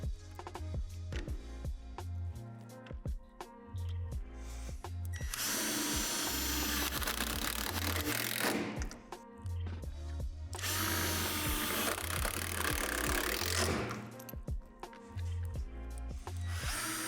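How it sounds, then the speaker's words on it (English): A power drill drives self-tapping screws into a Lifetime portable basketball system's frame pad, with several bursts of whirring separated by clicks and handling knocks, close and without talk. "secure with self-tapping screws"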